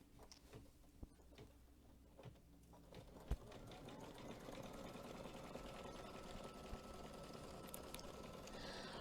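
An embroidery sewing machine stitches out a design for a collage pillow, a steady rapid mechanical whir with fast needle ticking that holds level and close for the whole stretch, with no voices over it.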